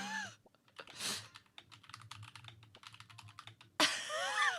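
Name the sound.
typing on a computer keyboard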